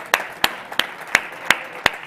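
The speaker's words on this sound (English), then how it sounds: "another round of applause for our Lido finance friends" A small audience gives a round of applause for guests from Lido Finance, sharp regular claps standing out over a soft wash of clapping at a moderate distance.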